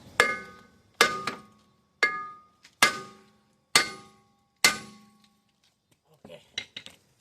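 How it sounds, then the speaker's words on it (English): A 4-pound hammer strikes the rear brake caliper of a 2016 Subaru Forester six times at roughly one-second intervals, each a sharp metallic clang that rings briefly, followed by softer clinks. "I'm gonna hit with the hammer to release this one"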